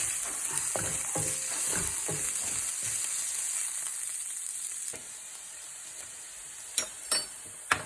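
Egg curry masala stirred in a pan with spice powders, a steady frying sizzle under irregular scraping strokes of a spoon, then a few sharp ticks of utensil against pan near the end.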